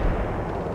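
Units in the World in Conflict video game open fire on a target. A dense, loud, sustained rumble of artillery and gunfire fills the moment with no pauses.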